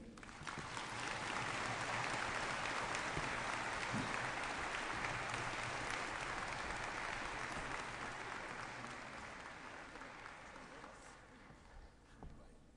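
Audience applause at the opening ceremony of the 17th CITES Conference of the Parties, a large hall of clapping that holds steady for most of its length, then thins out and fades near the end.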